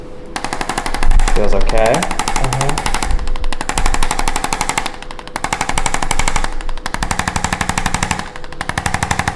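Percussion massage gun pressed on a person's back during a chiropractic session, a loud, steady rapid hammering buzz that dips briefly in places, with a short spoken question over it.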